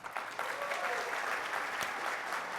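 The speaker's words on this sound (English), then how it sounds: "A round of applause for Barbara," Audience applause for a guest at a Startup World Cup grand finale fireside chat, a dense sustained burst of clapping from a crowd that holds steady for a couple of seconds.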